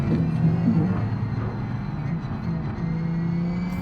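A multiplayer drag-racing video game plays engine sounds from a Transporter and a Vito, a steady whining drone with a low rumble underneath and no gaps.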